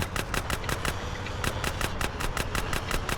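Rapid automatic gunfire from GTA San Andreas rattles in quick bursts with short pauses between them, loud and close throughout.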